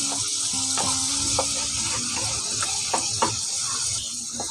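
Masala for desi chicken bhuna fries in a pan, a steady close sizzle with a watery bubbling edge, broken by occasional scraping knocks from stirring.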